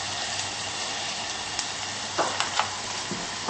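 An ingredient sizzling in olive oil in a pan, a loud continuous frying hiss with occasional small pops and stirring clicks, no voices.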